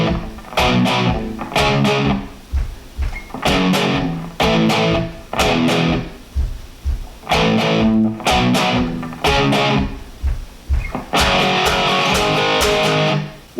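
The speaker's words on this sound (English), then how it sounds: "the rhythm guitar is going to come in and it's going to follow the bass line" A heavily distorted electric rhythm guitar plays a pop punk part from a song, following the bass line in loud, choppy bursts of power chords, some palm-muted, separated by brief gaps.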